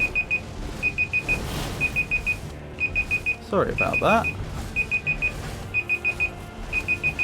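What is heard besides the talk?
alarm clock ringing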